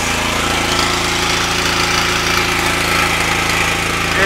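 A small EFI engine runs steadily at a rich, open-loop idle, a loud, even mechanical drone with a fast regular pulse that carries on alone throughout.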